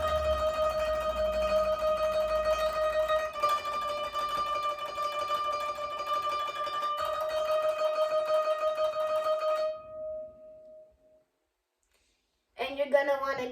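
A koto sustains a tremolo on its 11th and 10th strings, a bright, steady shimmering tone with two brief shifts, which fades and leaves a moment of silence before a voice begins speaking.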